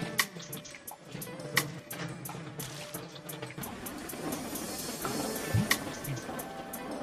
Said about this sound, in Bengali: এভাবে পুরো মুখে এভাবে রাব করে ব্যাস জল দিয়ে ধুয়ে নিতে হবে।